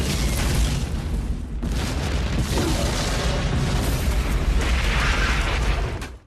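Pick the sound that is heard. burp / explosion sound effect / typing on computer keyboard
explosion sound effect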